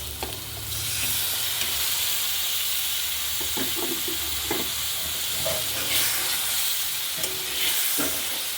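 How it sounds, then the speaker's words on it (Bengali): Raw parshe fish and greens fry in a pan with a steady, loud sizzle and hiss, broken by scattered clicks and scrapes of stirring, with no talk. "এবার আমি মাছটা দিয়ে দিব এই যে পার্শে মাছ"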